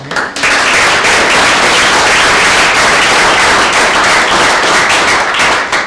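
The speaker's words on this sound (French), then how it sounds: "je voudrais qu'on l'applaudisse également énormément" An audience breaks into loud, sustained applause at a closing round-table session, many hands clapping in a dense, even roar that holds for several seconds with no talk over it.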